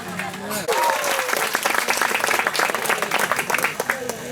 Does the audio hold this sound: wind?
no